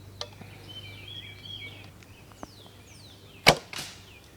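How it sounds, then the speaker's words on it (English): A single arrow loosed from a hybrid longbow outdoors, a sharp brief release near the middle, with faint bird chirps in the background and no talking. "I'm going to take a couple shots with my hybrid longbow over here."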